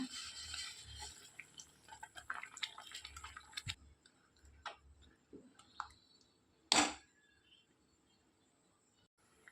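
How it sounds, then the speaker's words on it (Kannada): Water is added a little at a time to chana masala cooking in a pan, giving soft scattered drips and trickles with one sharp splash partway through, close by in a quiet kitchen. "ಸ್ವಲ್ಪ ನೀರು ಕೂಡ ಹಾಕಿ, ಸ್ವಲ್ಪ ಸ್ವಲ್ಪ ಸಾಕು ನೀರು ಹಾಕಿದರೆ, ತುಂಬ ನೀರು ಹಾಕಬಾರ್ದು."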